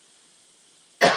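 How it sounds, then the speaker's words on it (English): A single loud, close cough bursts out at the very end, following about a second of near silence, from someone coughing because of allergies. "I'm coughing. I have terrible allergies."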